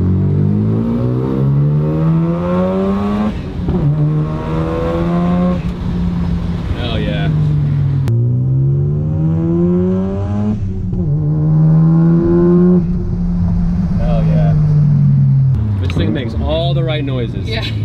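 A Mazda RX-7 with a 20B three-rotor engine revs hard on the street, close and loud. Its whining pitch climbs and falls through several rev cycles, and people talk between the bursts.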